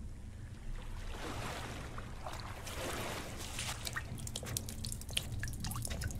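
Water drips off the player in the Pools video game, irregular close drips and trickles spreading over a steady, echoing ambient wash, with no talking.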